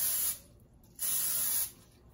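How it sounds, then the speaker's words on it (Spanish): Cooking oil spray sprayed onto a heated waffle maker: two loud, close hissing bursts, the first brief, the second longer after a short pause. "Vamos a poner un poco de aceite en spray."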